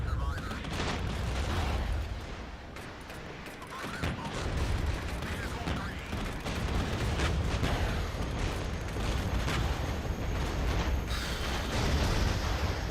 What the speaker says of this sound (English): here comes the counterattack. Grads, mortars, the whole shebang